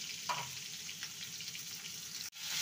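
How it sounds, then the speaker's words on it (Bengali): Pointed gourd (parwal) with potato fries uncovered over medium-high heat, giving a steady close sizzle and bubbling crackle with a couple of soft stirring touches and a brief dropout near the end; no voices. "পটলটাকে ভালো করে ভেজে নেব"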